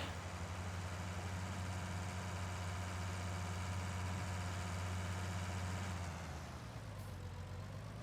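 A tractor engine in Farming Simulator 19 idles with a steady, close, low droning hum, its tone dropping slightly near the end, with no voices.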